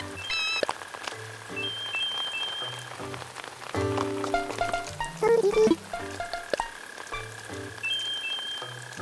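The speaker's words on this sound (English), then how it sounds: "I don't think I've seen it rain in game in a very long time" Rain falls in Animal Crossing: New Horizons, a steady soft patter running beneath bright game music and chiming interface tones, with no one talking.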